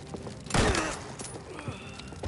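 Gunfire in Mafia: The Old Country, a single sharp shot with a short echoing tail followed by quieter scattered distant pops over low background ambience.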